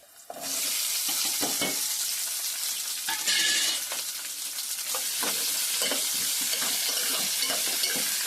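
Cut ivy gourd dropping into hot oil in a pan: a sudden loud hiss bursts in and settles into a steady, close frying roar, with scattered scrapes and knocks of a spoon as the pieces are stirred.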